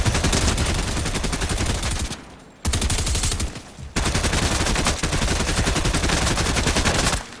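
NPC gunfire in a battle royale video game: long, loud bursts of rapid automatic fire, broken by two brief pauses before the shooting resumes at the same steady rhythm.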